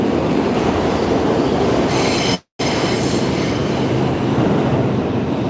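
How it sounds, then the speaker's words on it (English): A New York City subway 4 train running toward Queens, loud continuous rumble and rattle of railcars with wheel squeal, briefly cutting out for a moment midway before the roar resumes. "I just caught the 4 train. This will take you all the way into Queens here."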